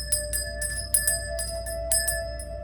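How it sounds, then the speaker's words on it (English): A small ritual bell rings close by to cleanse a space, with a series of bright metallic strikes. Each strike leaves sustained overtones that ring on between hits. "Let's ring the bell."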